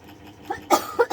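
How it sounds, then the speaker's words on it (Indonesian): A person coughs two or three times in short sharp bursts after a quieter stretch, close and fairly loud, with a throat-clearing quality. "Batuk."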